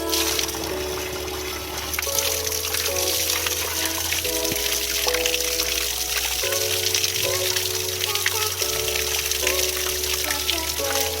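Fresh spring water from an ancient spring in an Azad Kashmir village pours and gushes steadily into a container. The noise is loud and continuous, with a hum in the background and a slight shift in tone partway through.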